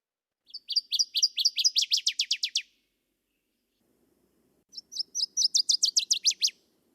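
Two clear bursts of northern waterthrush song, each a rapid series of bright, loud chirped notes speeding into a run, separated by a few seconds of quiet, with no other sound.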